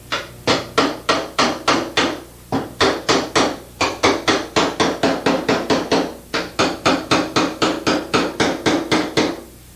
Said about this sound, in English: Get your pick hammer and hammer the back part of this part that's low.